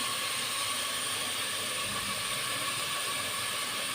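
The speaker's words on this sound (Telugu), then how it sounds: "ఆనియన్స్ ఫ్రై అవనిద్దాం ఆనియన్స్ తొందరగా ఫ్రై అవ్వడానికి సాల్ట్ వేసుకున్నాం" Onions frying with salt in a pan for chicken gravy curry, giving a steady close hiss of sizzling oil that holds unbroken throughout with no talk.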